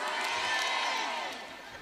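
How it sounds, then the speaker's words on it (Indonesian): Crowd applause and cheering at a Javanese religious women's gathering (Jam'iyatun Nisa), a broad wash of clapping and shouts that swells early and then tapers off. "Tepuk tangan dulu kangge Jam'iyatun Nisa sing keprok utange lunas kabeh"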